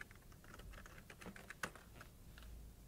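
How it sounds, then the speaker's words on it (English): Quick, light keystrokes on a computer keyboard as a terminal command is typed, an irregular patter of soft clicks close by with no talking. "Just type sudo ufv enable."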